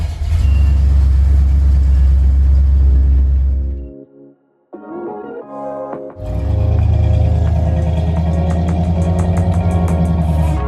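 A carbureted Corvette engine warming up, loud and close, with a deep steady idle and rumbling exhaust that drops away briefly, then restarts or catches and settles back into a strong, even idle.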